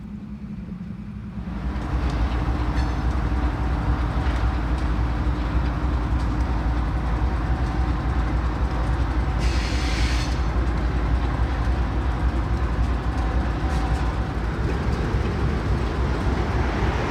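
Freight locomotive PL1 pulling empty cars ahead of a switch at a Central Connecticut fuel siding: a steady, loud, close rumble of engine and rolling wheels, with a short hiss of air partway through.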